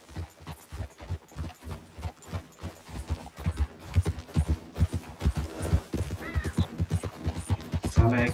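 Horse hooves clip-clop at a steady walking rhythm in Red Dead Redemption 2, the beat growing louder and closer over several seconds, with a faint whinny-like sound near the end and no talk over it.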